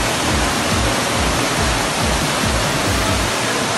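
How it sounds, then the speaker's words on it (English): Rushing floodwater from extreme rainfall pouring through a house, a loud, steady broadband roar and churn of water with no pauses, no voices heard. "Extreme rainfall decimates an entire house with floodwaters that resemble chocolate fountains"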